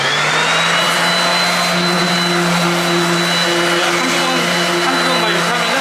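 An electric power sander works over a wooden cutting board in a woodworking shop, a loud, steady whirring drone with a shifting pitch and grinding texture, while people talk faintly underneath.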